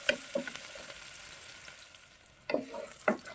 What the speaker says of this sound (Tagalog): Tapos ilalagay ko na yung ating bawang sibuyas.